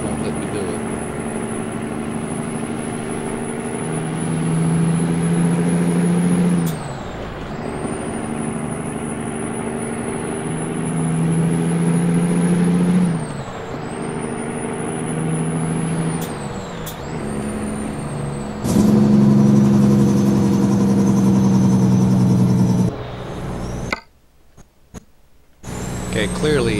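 A heavy truck in American Truck Simulator drones loudly, the engine pitch climbing and dropping as gears shift repeatedly, with air-brake hisses, before the sound cuts out near the end.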